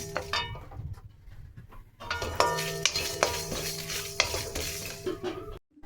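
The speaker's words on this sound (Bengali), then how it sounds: "এদিকে আমি জিরেটা দিয়ে দিচ্ছিলাম তারপরে হালকা নাড়াচাড়া করে নিচ্ছিলাম" Cumin and coriander are stirred in a pan while mango pickle is made, with a spoon scraping and clinking against the metal in uneven strokes over a light sizzle, close and fairly loud, then a sudden stop.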